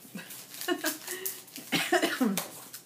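A few short coughs, fairly close and moderately loud, with brief gaps between them.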